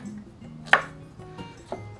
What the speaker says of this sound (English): So I'm gonna take my paddles and just cut them.